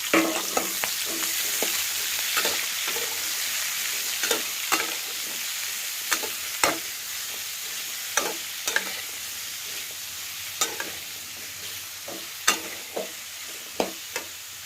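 Chopped tomatoes and green chillies fry in a pan for a village-style tomato chutney, with a steady close sizzle broken by regular scraping stir strokes of a spoon, and no talking.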